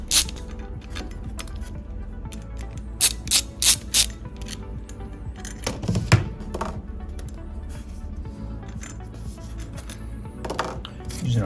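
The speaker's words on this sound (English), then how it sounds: "we take our 3/16 Allen wrench and we move the rotor body" A 3/16 Allen wrench loosening the rotor body retaining nuts on an Ampco ZP1 series pump, with quick bursts of close mechanical ratchet clicks in short groups and some scattered metallic taps.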